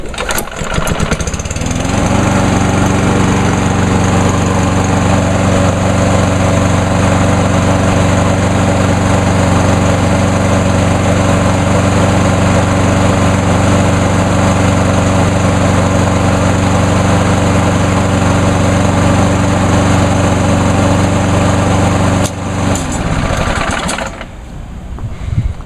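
A small gasoline lawn mower engine starts and runs steadily at a loud, even drone close by for over twenty seconds, then cuts off near the end.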